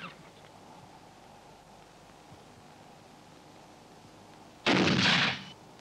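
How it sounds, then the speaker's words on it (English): A military explosive simulator goes off during a field exercise, a loud, broad burst lasting about a second after several seconds of quiet outdoor background. "An explosive, certainly, but not designed to kill, only to add realism to a field exercise."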